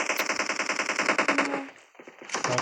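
Rapid automatic gunfire in the PUBG Mobile game, a fast, steady burst of closely spaced shots that cuts off abruptly, followed by a brief scattered pause and another short burst.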